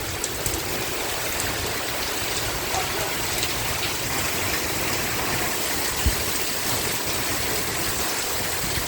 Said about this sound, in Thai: ทั้งฝนทั้งล่มนะครับวันนี้ครับ